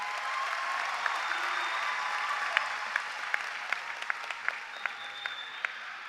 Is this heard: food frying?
no